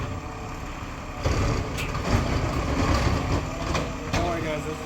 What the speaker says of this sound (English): Don't worry, guys, it's just a garbage truck.